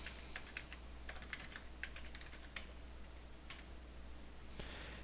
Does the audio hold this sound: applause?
no